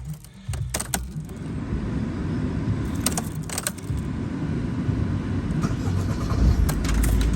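A Mercedes Vito van engine cranks and fires after a starter motor replacement, settling into a steady close idle rumble with a few clinks of keys near the start.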